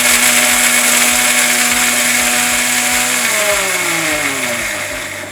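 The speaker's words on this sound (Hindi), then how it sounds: "तब तक हम अपने बेरिस्ता को, यानी कि फ्राइड अनियंस को पीस लेते हैं।" Electric kitchen blender grinding fried onions (birista), a loud steady whirring motor that drops in pitch as it slows toward the end, alone and close.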